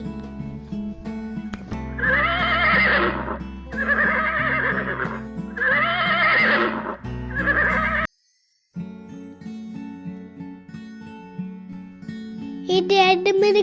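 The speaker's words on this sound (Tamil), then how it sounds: "குதிரை." A horse neighs several times in a row, loud, drawn-out whinnies over a steady background music track, followed by a brief silence and then more music with a bright sound rising at the end.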